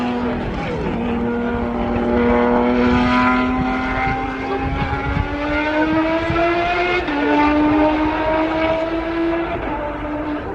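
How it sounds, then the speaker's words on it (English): A Lotus race car laps the Oulton Park circuit at a historic saloon car racing meeting. Its engine gives a steady, continuous drone that slowly rises in pitch, heard at some distance. "I can hear the Lotus going around"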